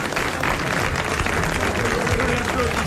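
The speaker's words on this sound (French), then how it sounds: "Vous l'applaudissez." Broad, continuous applause from a television studio audience in 1980, thick and steady throughout with faint voices mixed in.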